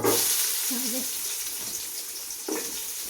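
Onion and tomato frying in hot oil as the base for a village-style fish curry, giving a steady, close sizzle with a faint voice murmuring briefly near the start.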